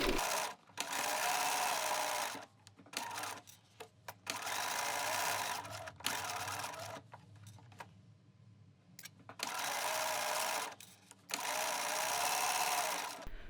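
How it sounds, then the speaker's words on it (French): A sewing machine stitches fabric for a vanity case in several steady bursts of fast mechanical chatter, separated by short pauses, close and clear with no voices. "je peux rabaisser le pied presseur et poursuivre ma piqûre"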